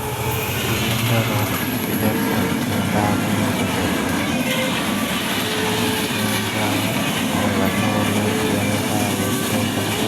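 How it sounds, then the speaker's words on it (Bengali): A train passes at high speed close by, a loud, unbroken roar of wheels and carriages with faint clickety-clack rhythm sustained throughout. "দেখতে দেখতে ট্রেনটা চলে আসলো ট্রেনের গতি অনেক"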